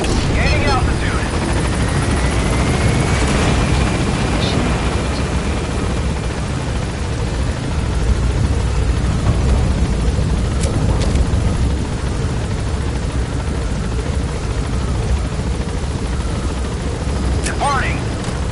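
An extraction helicopter gains altitude in the video game Metal Gear Solid V, with a loud continuous rotor roar that stays steady throughout and some faint sharp bursts and radio chatter in the background.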